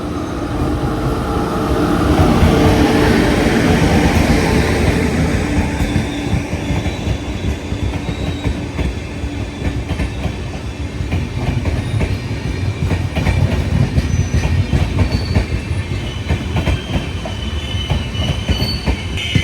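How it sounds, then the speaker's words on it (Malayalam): Ernakulam–Okha Express rolling through a station, loud continuous rumble of railcars with rhythmic clickety-clack of wheels over rail joints and faint wheel squeal, steady and close throughout with no talking. "അടുത്തതായിട്ട് നമുക്ക് പണി തരാൻ പോകുന്നത് എറണാകുളം ഓക്ക എക്സ്പ്രസ് ആണ് ഇപ്പോൾ നന്ദുകാവ് റോഡെന്ന് പറഞ്ഞ സ്റ്റേഷനിലുണ്ട് നമ്മൾ പിടിച്ചിരിക്കുകയാണ്"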